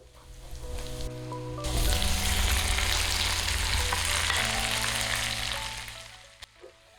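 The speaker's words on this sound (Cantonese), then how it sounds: "依家我就爆香啲蒜子，啲蒜子大約係淺啡色就可以再加啲番茄啦" Sliced tomatoes hit a hot pan of browned garlic cloves and stir-fry with a loud, dense sizzle that swells and holds steady, then fades near the end, with a faint scrape of stirring and no talking.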